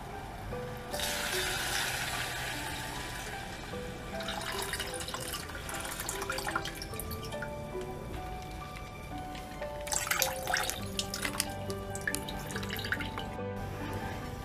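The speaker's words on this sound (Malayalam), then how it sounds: "ഒരു 1/2 ലിറ്റർ പാലാണ് ഞാൻ ഒഴിക്കുന്നത്." Half a litre of milk poured into a pan for dates pudding in a home kitchen: a steady, gentle liquid stream with sloshing and a few louder splashes toward the end, moderately faint, with no talk.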